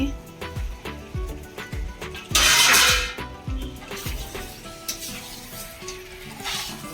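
Potatoes dropped into a pan with braised mutton hit the hot oil in a loud burst of sizzling, which then settles to a steady frying crackle. Spoon clinks sound throughout, and voices talk nearby.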